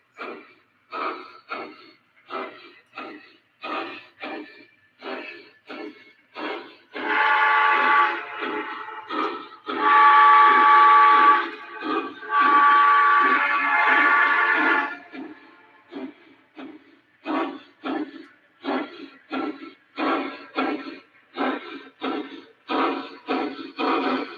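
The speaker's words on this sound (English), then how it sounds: "it does have the chuff generator in it" A model steam locomotive with a chuff generator runs on a layout, giving rhythmic evenly spaced chuffs that pause for several seconds of sustained whistle-like tones, then resume, close and clear with no talk.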